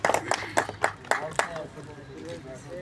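Audience at a lottery prize event clapping in a handful of sharp, scattered claps that fade out, followed by people talking.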